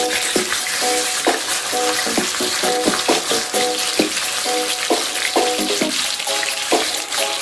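Red snapper fish fries in a pan, a constant crackling sizzle broken by repeated clattering strikes at a loose, recurring rhythm.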